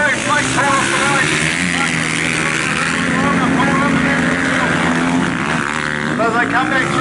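Flat track motorcycles at Rosebank Speedway roar off the start together, a loud, dense engine howl that rises and holds steadily throughout, with a race commentator talking over it.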